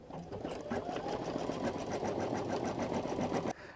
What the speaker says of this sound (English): let's go ahead and stitch the letters now over the applique fabric.